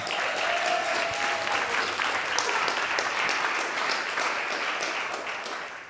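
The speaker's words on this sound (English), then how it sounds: "Let's give her a big round of applause." An audience breaks into loud, sustained applause, dense clapping from many hands that holds steady and then starts to taper near the end.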